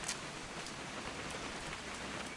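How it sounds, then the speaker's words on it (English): Steady rain falls in the video game What Remains of Edith Finch, an even, soft hiss of countless drops with no voices over it. "It's gonna rain the whole weekend, isn't it?"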